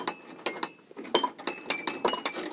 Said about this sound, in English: build a Lego machine that plays music on glass bottles